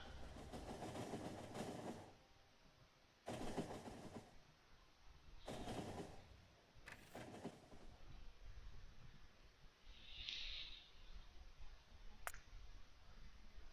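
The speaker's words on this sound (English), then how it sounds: "there goes the train" A train in the factory-building game Factorio passes by, a layered rumbling clatter with a few clicks, loud at first with gaps, then continuing at a steady level with a brief bright chime near the end.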